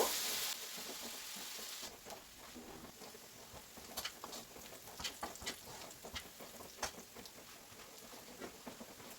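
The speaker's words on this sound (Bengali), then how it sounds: "এই যে পেঁয়াজটাকে আমি একটু ব্রাউন করে নিব মানে লাইট ব্রাউন করে নিব" Onions for chicken biryani fry in a pan with a soft, steady sizzle and scattered crackles and pops, close by and fairly quiet, after a brief louder burst at the start.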